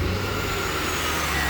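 A C4 Corvette engine idles steadily at close range, a constant low rumble with a faint whine and no voices.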